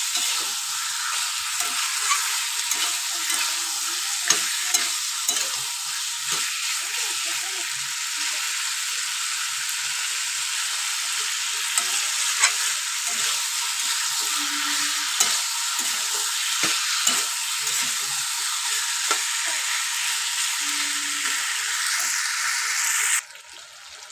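Spice masala being sautéed in oil in a pan on a high gas flame, giving a continuous bright frying hiss with frequent scraping stirs and light clacks throughout, close and steady, ending abruptly.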